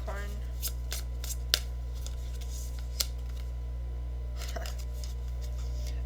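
A tarot deck shuffled and a card drawn, giving a few soft, brief riffling taps and flicks close by over a steady low hum, with no talking.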